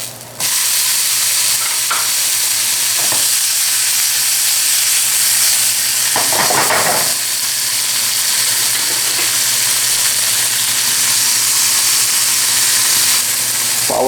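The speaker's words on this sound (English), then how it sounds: "At this point my peppers go in." Peppers fry in a hot pan with cooking onion for a pepper and eggs dish, making a loud, continuous sizzle and hiss. Brief stirring scrapes break in now and then, and nobody speaks.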